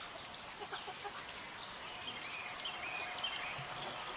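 Soft chicken clucks and a few higher calls scattered over a steady outdoor hiss, fairly faint and distant.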